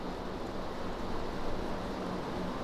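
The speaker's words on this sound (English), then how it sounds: "Breathe in and exhale out as you hear the rain falling" Steady rain falling, a soft even hiss with no distinct drops standing out, continuous and moderately faint throughout.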